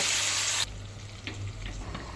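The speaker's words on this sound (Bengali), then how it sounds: "এবার ঢেলে দেব ম্যারিনেট করে রাখা মাংস" Marinated beef hits a hot pan for a beef bhuna, a bright loud sizzle in the first half second that drops to a softer, steady frying hiss with a few light clinks and stirs.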